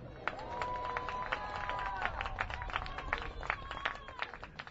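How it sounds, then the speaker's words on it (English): Crowd applause and cheering fill the stands at Kerr Stadium in Salem, Virginia, during a women's lacrosse game against Berry College, a steady wash of clapping with scattered whoops and a sustained whistle-like tone, heard at moderate distance. "Let's have one last round of applause."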